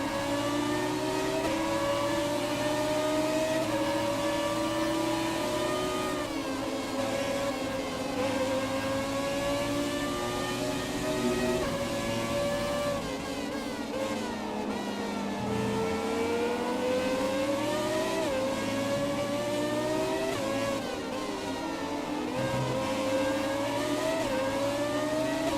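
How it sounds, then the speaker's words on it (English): Formula 1 race car engine from the F1 2017 racing game, a loud sustained high-pitched whine rising and falling steadily through gear changes across the whole stretch, with no talking over it. "Oh, I love the sound of this car."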